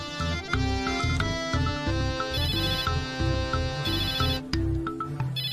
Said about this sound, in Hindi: जिससे मालिक का निकाह होने वाला है, उन्हीं ज़ेबुनिसा का फोन आ रहा है।